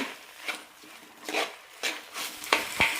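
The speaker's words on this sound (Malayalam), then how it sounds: "രണ്ട് മൂന്ന് മിനിറ്റ് നന്നായി വഴറ്റി കൊടുക്കാം" Rice for mint biryani is fried in a pan with masala and stirred with a spoon, giving a few soft, spaced scrapes over a low sizzle, close and fairly quiet.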